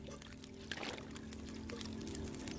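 Liquid pours steadily in The Long Dark video game while herbal tea is prepared, making a soft, continuous trickle that stays quiet and close throughout with no speech.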